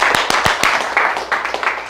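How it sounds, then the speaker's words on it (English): Audience in a real estate talk clapping, a scattered burst of hand claps from a crowd, fairly close and steady for a couple of seconds. "You can clap that up."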